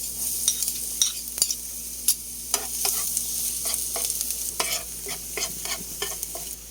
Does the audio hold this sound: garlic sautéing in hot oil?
yes